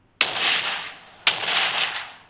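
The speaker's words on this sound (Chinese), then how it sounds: "枪声最清脆的是 ROG" PUBG Mobile (Game for Peace) gunshots through an ASUS ROG gaming phone's speakers: two sharp, crisp bursts, each with a hard attack and a decaying tail, loud and close, with no voices.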